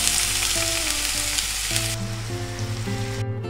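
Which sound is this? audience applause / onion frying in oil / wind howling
onion frying in oil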